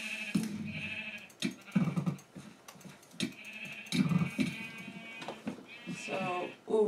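Minecraft sheep bleat repeatedly during a team mini game about capturing the other team's sheep, their wavering cries recurring throughout under and between a player's talking.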